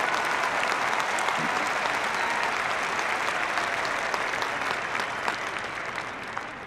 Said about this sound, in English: Maybe you should all give yourselves a round of applause